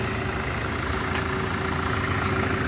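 A Mercedes Vito 639 van engine idles nearby with a steady low rumble and faint mechanical hum. The tone stays even throughout, with no speech over it.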